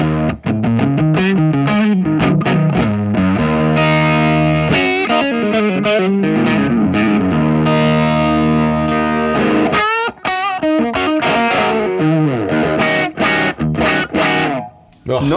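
A Chapman ML1 electric guitar played through a Marshall amp with heavy distortion, loud sustained chords and riffs running nearly continuously with a couple of brief gaps, a voice occasionally breaking in.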